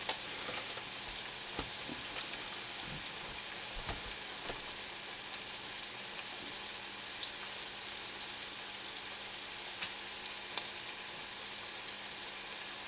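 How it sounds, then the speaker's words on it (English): Creamed scallops simmer in a pan with a soft, continuous sizzle and scattered small pops and bubbles, quiet and steady. "Look at them simmer."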